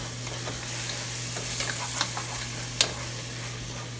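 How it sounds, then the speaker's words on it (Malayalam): A spoon stirs beef biryani masala with fried onions in a hot pan, producing a steady sizzle with a few sharp scraping clacks, close and alone over a constant low electrical hum. "ഇനി ഇത് നന്നായി ഒന്ന് ഇളക്കി കൊടുക്കാം."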